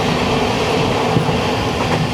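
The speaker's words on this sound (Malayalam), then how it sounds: "ആ പോകുന്നത് കണ്ണൂർ ആലപ്പുഴ എക്സിക്യൂട്ടീവ് എക്സ്പ്രസ് ആണ്." The Kannur–Alappuzha Executive Express passing close by, a loud steady rush of rolling wheels and rail noise with faint rhythmic clatter, with slight wind noise over the recording.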